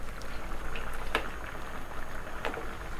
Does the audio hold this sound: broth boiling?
yes